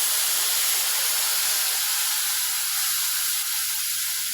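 Tamarind water is poured into onions and green chilies sautéed in oil, giving a steady, loud hiss and sizzle with no talk.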